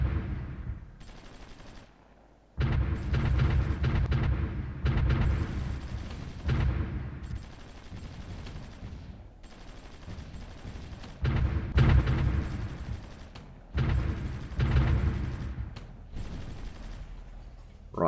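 Battle in the strategy game Supreme Ruler Ultimate: rolling volleys of gunfire mixed with booming artillery, arriving in repeated bursts of several seconds with short lulls, moderately loud and continuous.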